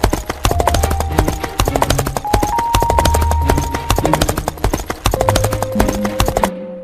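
Horses approaching with loud, close hooves clip-clopping in a steady rhythm for several seconds, set against a sustained musical tone.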